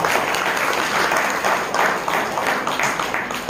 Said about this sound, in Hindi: हमारे सुशीला नेताम दीदी जी के लिए तालियां बजाएं।